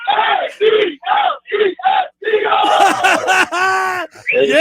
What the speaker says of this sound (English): I think these guys want to give a little cheer here